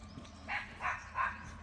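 Three short dog barks at an even pace, moderately near, at a quiet rural gathering spot in Yeongwol with no one talking.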